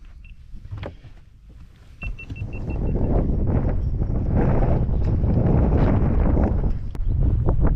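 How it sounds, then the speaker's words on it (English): Gusty wind buffets the microphone outdoors on a boat while bass fishing, a loud low roar that swells after a few seconds and stays strong, with faint rustling and knocks underneath. "Ooh, that wind."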